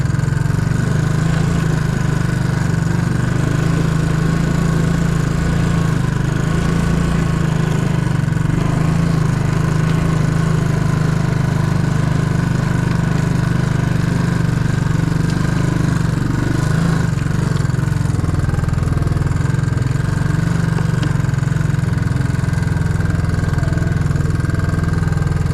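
A four-wheeler ATV engine idles steadily and close by, a continuous low rumble with a fairly even tone that holds for the whole stretch with no one talking.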